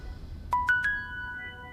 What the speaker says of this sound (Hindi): अरे कबीर का ही फोन है